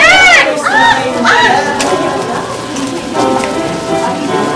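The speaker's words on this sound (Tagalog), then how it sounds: "Mga ibon ba ang aking nahihingin?" Birds call repeatedly with rising, arching chirps and cooing notes, loud and close over a steady rain-like hiss, with a few softer calls continuing behind.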